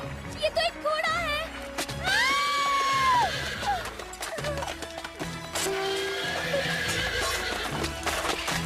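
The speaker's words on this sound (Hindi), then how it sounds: "ये तो एक घोड़ा है।" A horse whinnies in several long wavering neighs close by, mixed with hooves clopping and other movement in a Cinderella cartoon, with people talking over parts of it.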